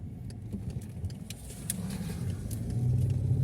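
A car driving along a road toward a gas station near Makarov, heard from inside as a steady low engine rumble that grows slightly louder toward the end, with faint rattles and no talk.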